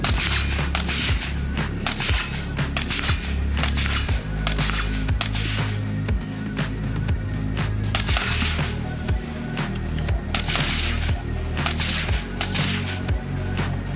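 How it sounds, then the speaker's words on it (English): Nonstop gunfire from several shooters at an outdoor shooting range at night during night vision shooting, sharp overlapping shots in dense rapid strings, loud and close. "we ended the night with some night vision shooting on the main range"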